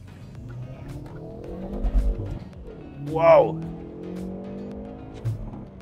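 A 2020 Hyundai i30 Fastback N engine revs up hard and roars as it accelerates, with a tire chirp in the middle and a person exclaiming over the noise.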